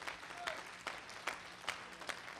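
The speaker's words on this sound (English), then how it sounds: "Give the Lord another big hand clap of praise." Scattered hand clapping from a church congregation during a Sunday service, with periodic sharper claps standing out over a faint, steady wash of applause at moderate distance.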